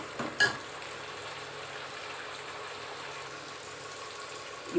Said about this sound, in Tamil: இது நல்லா வதக்கி விட்டுடலாம்.